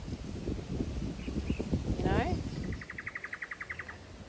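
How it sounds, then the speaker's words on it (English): Outdoor ambience with rustling and shuffling, then a rapid series of bird chirps repeating in a quick rhythm near the end. "There's the birds and the wind."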